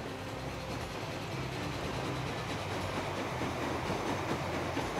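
Freight train running on the Pennsylvania Railroad in the video game Transport Fever, a continuous steady rumble of wheels and cars rolling at moderate distance.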